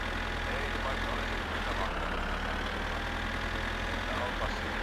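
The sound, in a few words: old tractor engine idling in My Summer Car video game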